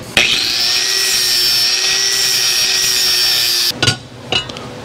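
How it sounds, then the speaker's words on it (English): A milling machine riser spacer ring being ground down on a Bridgeport clone: a loud, steady high-pitched grinding whine held for several seconds, then cut off, followed by a couple of clunks. "See a little bit of rock there, so I gotta grind this down just a little bit."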